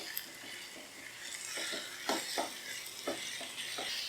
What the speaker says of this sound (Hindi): कीमे को हम भून लेंगे प्याज और अदरक लहसुन के साथ तकरीबन 1-2 मिनट के लिए मीडियम फ्लेम पे।